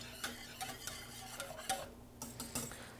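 Cherry sauce with sugar boils in a pot, giving soft, irregular bubbling pops and small ticks at low volume, close by, with no talking.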